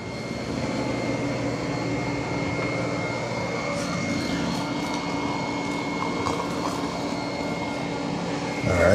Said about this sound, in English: Now it is mopping and vacuuming at the same time.